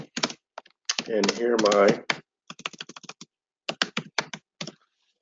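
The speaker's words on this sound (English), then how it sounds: "Let me type this in" Rapid bursts of clicking keystrokes on a computer keyboard during a tax-strategy webinar, close and crisp, with a short stretch of talking in the middle and more scattered typing afterward.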